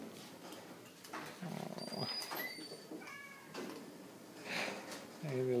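A cat meows faintly a few times amid a room full of people talking softly.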